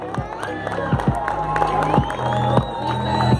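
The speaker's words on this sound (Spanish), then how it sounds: "Fuerte que se escuchen las palmas." A festival crowd at Cantoya Fiesta y Color claps in rhythmic beats and cheers under an amplified announcer's voice, with a loud, echoing outdoor sound.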